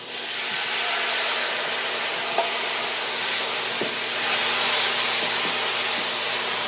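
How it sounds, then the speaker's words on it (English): Tomatoes added to sautéed onions sizzle in a wok over medium-high heat. A steady, dense hiss holds close throughout, with a few faint clicks from utensils and no speech. "So now I'm going to add the tomatoes."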